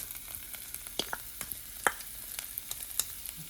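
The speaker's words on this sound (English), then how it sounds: "So, now we are going to add the ginger." Ginger added to a hot pan on a stove for a coconut horse gram dish gives a quiet, steady sizzle, with scattered sharp crackles and the light scrape of stirring throughout.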